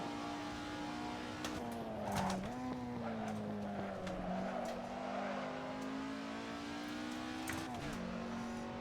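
Skoda 130R race car engine in Assetto Corsa, droning steadily at high revs with brief dips at each gear shift or lift, close and continuous for the whole stretch.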